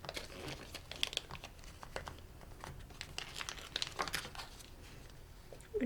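Plastic blind-box bag crinkles and crunches in close, irregular bursts as fingers dig a Lost Kitties toy out of its packaging, with sharper rustles scattered throughout and no talking.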